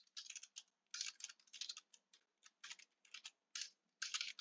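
Code is typed on a computer keyboard in quick uneven bursts of crisp, close key clicks with brief pauses between runs, quiet and with no talking.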